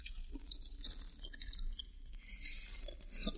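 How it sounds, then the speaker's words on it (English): Gum chewing in an old-time radio detective drama: soft, wet smacking and clicking mouth sounds repeat irregularly, close and quiet, with no talk over them. "Do you chew gum all the time?"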